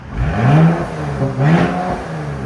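Mercedes GLE 43 AMG with a 3.0L twin-turbo V6 and muffler delete revving twice, each rev rising and falling in pitch, loud and close with a low rumbling idle between.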